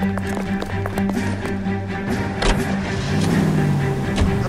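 A car in L.A. Noire starting up and pulling away, a steady engine drone with a sharp clunk midway and the motor building as it drives off, mixed with game effects.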